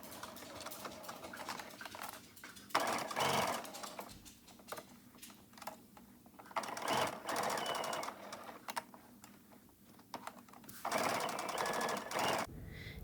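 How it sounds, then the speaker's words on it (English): A sewing machine stitches bias tape onto a jacket made from a quilt at a half-inch seam allowance, running in several loud rattling bursts with short pauses between them. "using a 1/2 inch seam allowance, sew it into place."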